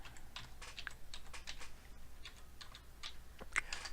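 Keyboard keys tapped in quick irregular bursts while logging in to an online registration site, close and fairly quiet, with short pauses between runs of keystrokes and no talking.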